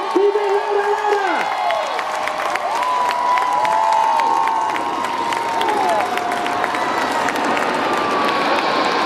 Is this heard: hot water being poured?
no